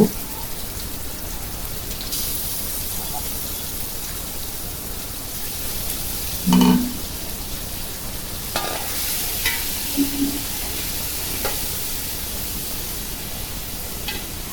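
Meat sizzles in a pan for biryani made with ready-mix spice, a steady crackling hiss like rain that runs throughout, with a few faint clinks and stirring knocks.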